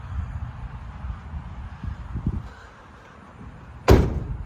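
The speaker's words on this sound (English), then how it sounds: "Bam, doors close like factory." A door on a custom eight-door mega truck shuts with one sharp, solid slam near the end, after a few seconds of quiet rustling and faint handling noise.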